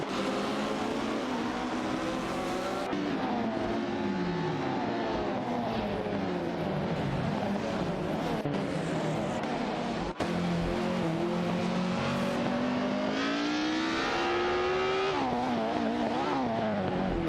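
Race cars in an AI racing video game, including a Cooper T23 and a Ferrari 555 F1, engines droning and whining continuously as pitches rise and fall through gear changes, loud and unbroken.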